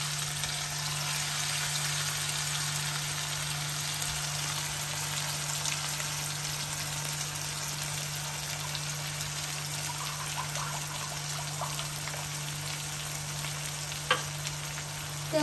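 A paste of ginger, garlic and chilli fries in hot oil with a steady, even sizzle that holds throughout, with a faint steady hum beneath it and an occasional soft tap.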